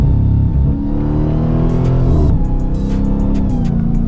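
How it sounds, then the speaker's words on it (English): A bone-stock Dodge Demon 170 revs loudly up close, its supercharged V8 exhaust a deep rumbling roar that rises and settles, followed by a rapid series of crackling pops. "the exhaust is good too. Burbles, cracks, pops, and yeah, it's bone stock."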